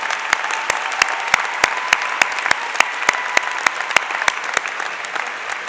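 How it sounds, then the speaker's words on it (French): Graduation convocation audience giving a steady round of applause, a continuous wash of many hands with a few sharper claps standing out at a regular pace throughout. "Let's give them a good round of applause."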